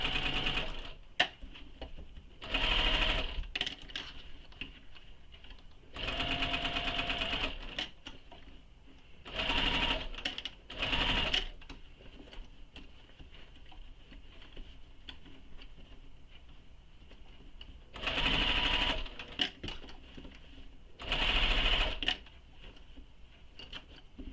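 A sewing machine stitches a seam on a fabric shoulder bag in runs of a few seconds each, the motor whirring and needle rattling, with quiet gaps between runs where fabric is adjusted.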